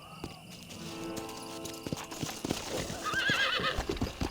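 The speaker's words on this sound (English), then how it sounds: "Ó, o cavalo pula." A horse in the Red Dead Redemption video game, with steady hoof clip-clop building into a loud, close whinny toward the end over continuous in-game background sound.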